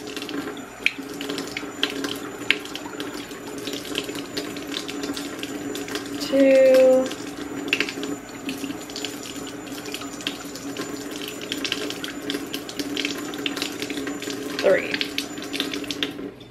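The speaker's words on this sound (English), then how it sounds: "Maybe put water in this tablespoon." A kitchen tap runs water into a tablespoon, a steady close hiss and splash that lasts the whole stretch, with a short gurgling burst midway and talk heard over it.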